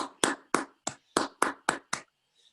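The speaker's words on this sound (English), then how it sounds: "I think we can applaud for a nice lecture" Sharp, separate hand claps ring out at the end of a lecture, about eight evenly spaced strikes like a single person's steady clapping rather than a full round of applause, then quiet.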